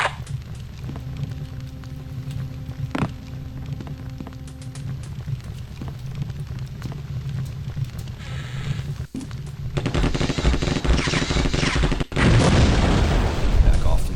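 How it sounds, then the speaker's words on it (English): Explosions in The Terminator: Future Shock, a first-person shooter set among mines and hazards, with sharp booms and a burst of loud rumbling near the end over steady game background noise, while a voice talks partway through. "Explosion."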